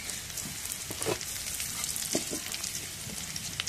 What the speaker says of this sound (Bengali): এখন একটু জিরা দিয়ে দিই।